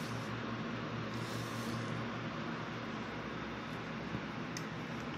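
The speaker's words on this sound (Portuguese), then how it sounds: "Se você estiver ouvindo um chiadinho, é o ventilador que tá ligado" An electric fan runs in a room, giving a faint, steady broadband hiss and low hum with no change throughout.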